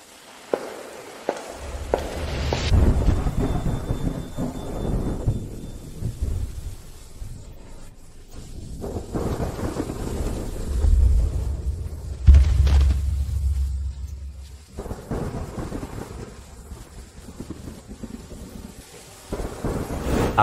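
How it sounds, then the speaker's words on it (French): Torrential rain with rolling thunder outdoors, a continuous heavy downpour with deep rumbles that swell and fade, plus some footsteps and a few sharp knocks, with no talking. "Comment marcher sous cette pluie torrentielle?"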